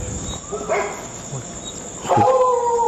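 Dogs bark in short bursts at a middle distance, joined by a louder, closer yelp near the end over steady insect-like outdoor hiss.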